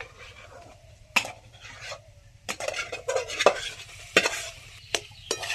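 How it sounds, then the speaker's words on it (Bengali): Boiled potato and cauliflower get stirred into a spice masala in a pan. A spoon scrapes and clatters against the metal in irregular bursts over a faint sizzle, with no speech. "এবার সেদ্ধ আলু ফুলকপি দিয়ে দেবো"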